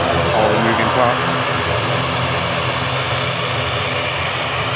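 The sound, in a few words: aircraft just arrived from the Isle of Man at Manchester Airport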